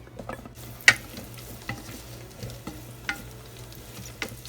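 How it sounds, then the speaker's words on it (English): Chinese sausage sautéing in hot olive oil inside a rice cooker pot gives a quiet, steady sizzle, with a few sharp clinks and scrapes of a utensil stirring at intervals. "When the oil is hot, let's saute the Chinese sausage."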